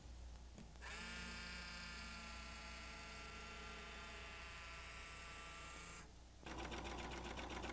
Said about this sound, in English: Overedging to finish hems, facings, and seams is one of the most basic ways to use a serger.